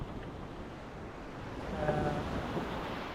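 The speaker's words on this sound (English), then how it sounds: "And you see the waves are in" Sea waves rolling onto Malvarrosa beach in Valencia, Spain, a steady broadband wash of surf with wind noise on the microphone, swelling slightly louder midway and continuing without speech.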